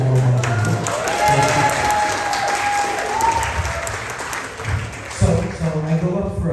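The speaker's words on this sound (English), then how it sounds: "This is the most applause and the best audience I've had in a long time." Audience at a National Association of Italian American Societies gathering breaks into sustained applause and cheering for a speaker, a dense steady wash of clapping that lasts several seconds and swells again near the end.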